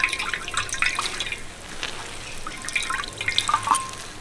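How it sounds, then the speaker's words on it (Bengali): Grated raw mango for pickle being twisted and squeezed in a cloth, with water trickling and dripping out in close, uneven spurts and splashes. "এই যে এইভাবে যত পাক দেবো ততই কিন্তু জলটা বেরিয়ে আসবে"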